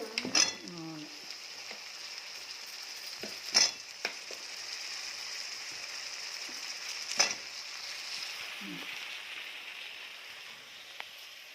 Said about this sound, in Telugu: ఆలు ఫ్రై చేసి వంకాయలు కట్ చేసి పెట్టుకున్నాం కదా, అవి ఫ్రై చేసుకున్నాం